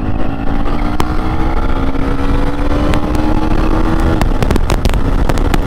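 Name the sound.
KTM Duke 250 motorcycle test ride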